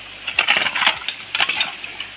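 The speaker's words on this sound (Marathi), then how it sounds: "तर आता संजय माती काढतो आहे।" A few quick scraping, crunching strikes of a tool into soil, close up, in two short bursts, digging out a small water channel.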